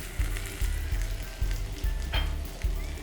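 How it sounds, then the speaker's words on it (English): Tindora sautéing in a pan with masalas, amchur and jaggery, a steady close sizzle with soft rhythmic scraping strokes of a spoon stirring through the vegetables. "I'm going to go ahead and saute all the ingredients"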